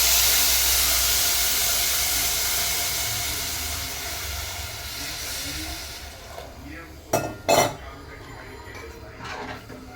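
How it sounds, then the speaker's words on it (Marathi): Water poured into a hot pan of Bangda fish curry sends up a loud, broad steaming hiss that slowly fades over several seconds, followed by a couple of short clanks of cookware. "याच्यामध्ये आता आपण पाणी घालूया."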